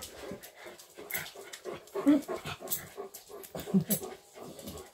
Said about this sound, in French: Avoir tous ces chiens dans la maison, laisse-moi dire que je me sens bien.